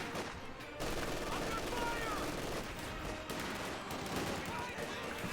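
Machine gun bursts in a Company of Heroes battle, several rapid crackling volleys at mid distance layered over constant battle noise and rumble, with voices talking over the fighting.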